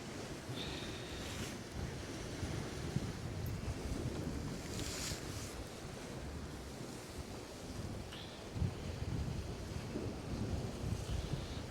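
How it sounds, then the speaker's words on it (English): Blustery wind buffets the microphone on the Northumberland coast, a continuous rough rumble with gusty swells and surf-like hiss throughout, loud and close with no talking. "That breeze is picking up ever so slightly."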